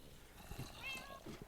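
A single short cat meow in a video game, faint, with a brief rising-then-falling cry overlapping quiet background talk.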